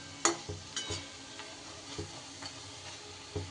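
Lentil fritters (bora) fry in hot oil in a wok with a soft, continuous sizzle, broken by several sharp clinks and scrapes of a spatula stirring them.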